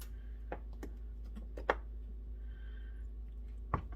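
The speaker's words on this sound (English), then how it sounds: "We're just going to dice the cheese up." A knife dices a block of Kroger cheddar cheese on a cutting board, giving a few sparse, quiet taps and clicks over a steady low hum.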